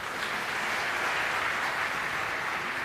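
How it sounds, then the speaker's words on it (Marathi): Crowd applauding at a public meeting after a road-works announcement, a broad, even patter of many hands sustained at moderate volume, slightly distant, with no talk over it. "लोकांनी एवढ्या टाळ्या वाजवल्या"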